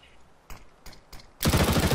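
Counter-Strike: Global Offensive gunfire during a competitive match on the Cache map: three quick separate shots, then a loud sustained burst of rapid fire to the end.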